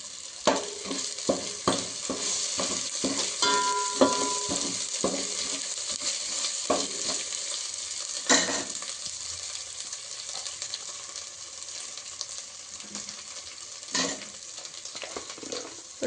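Coriander powder fries in oil for an egg biryani masala, a steady sizzle with repeated clacking stirs of a spoon against the pan, busier early and thinning out later.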